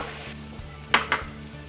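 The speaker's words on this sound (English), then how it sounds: "I'm going to add the wine to this" Wine poured into a hot pan of sausage and rice for saffron risotto, giving a soft steady sizzle with a couple of brief bright splashes and a faint metal clink.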